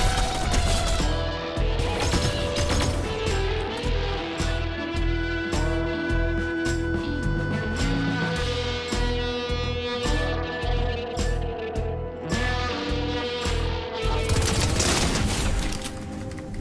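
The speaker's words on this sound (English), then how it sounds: "Someone's shooting at us." Rapid automatic gunfire in Fortnite Chapter 3 Season 4, loud bursts of repeated shots rattling almost continuously with brief pauses, plus occasional heavier impacts, no talking.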